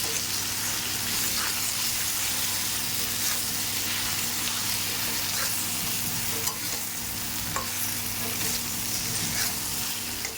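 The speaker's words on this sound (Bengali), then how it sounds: "ভেন্ডি আর আলু একটু ভেজে নেব।" Okra and potatoes frying in a pan give a steady, dense sizzle with some stirring, continuous and fairly close throughout.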